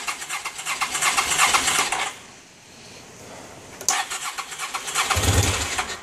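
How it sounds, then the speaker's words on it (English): A Honda Pacific Coast PC800 motorcycle converted to fuel injection cranks on the starter, then after a brief pause catches and rumbles to life, running loud and close with a rough, throaty idle and no talking. "That's the first time that it has rumbled to life since I pulled off the carburetor"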